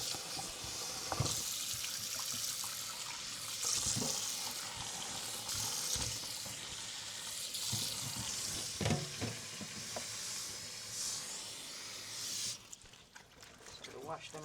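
Running water splashes as chicken pieces are washed with salt in a kitchen sink for a Jamaican stew chicken, a steady close rushing stream with intermittent clatter and sloshing throughout.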